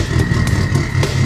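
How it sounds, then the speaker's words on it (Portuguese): A hot-wired car engine in the video game GTA 5 turns over, making a steady low rumble with sharp cranking bursts roughly every quarter second, loud and close. "deixa eu tentar ligar esse motor"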